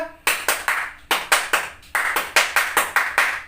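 A group does the Indonesian scout clap in rhythmic bursts, with sharp, loud claps in quick repeated patterns and brief pauses between sets.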